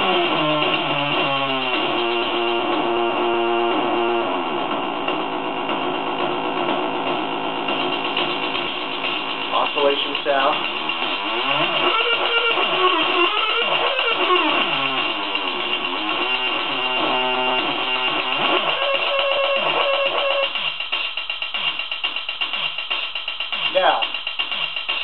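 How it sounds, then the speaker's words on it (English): An electric guitar through a modified Boss DS-1 distortion pedal at maximum roars with a dense, buzzing, saturated tone, notes sliding and bending continuously with no pauses. "If we go all the way with the distortion, we turn it into that."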